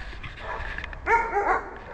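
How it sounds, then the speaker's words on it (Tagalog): A dog barks and yips a few times at moderate distance, short sharp calls over faint background hum. "Ayan, tumatahol ng mga aso."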